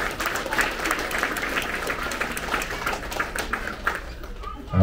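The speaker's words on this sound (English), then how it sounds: "Round of applause to our mathematician." Audience clapping at an elementary school sixth grade promotion ceremony, a steady patter of hands running the whole stretch, with scattered voices and cheers mixed in and a louder bump at the very end.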